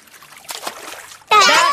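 A loud splash of water from jumping into a puddle, bursting in abruptly near the end after quieter sounds, close and broadband.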